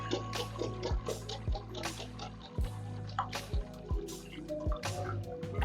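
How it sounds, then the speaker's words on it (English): Pounded palm nut liquid drips through a sieve into a container below, a string of distinct close drops and plops falling at an uneven rhythm over a faint steady background. "She's going to pour the palm nut that we have pounded into the sieve. She's sieving it."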